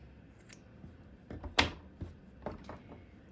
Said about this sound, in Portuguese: E agora eu já posso cortar o fio.